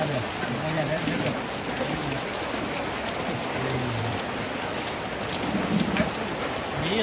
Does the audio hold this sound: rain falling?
yes